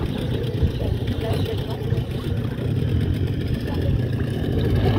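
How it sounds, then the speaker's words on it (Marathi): A motorboat engine arriving at a scuba diving spot off Malvan, Sindhudurg, India, giving a steady, fairly loud low rumble that holds throughout, with some voices faintly mixed in. "बघा अजून एक बोट आलेली आहे."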